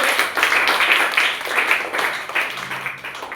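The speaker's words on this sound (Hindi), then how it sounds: "चलिए इनके लिए जोरदार ताली बजाइए तो सभी लोग।" An audience of teachers and students at a school event claps together, a steady, dense applause of many hands that fills the moment loudly and close, then tapers slightly toward the end.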